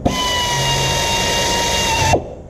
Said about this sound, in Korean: 이 드릴이 들어가거든요